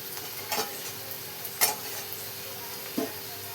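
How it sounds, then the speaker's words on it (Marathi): Spice masala stirred into an onion and sev curry in a pan, heard as three sparse spoon scrapes and clinks over a faint, steady sizzle. "बघा दोन चमचे मसाला टाकून घेतला आणि बघा ते मिक्स करून घ्यायला घेतले"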